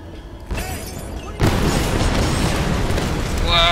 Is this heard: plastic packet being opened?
no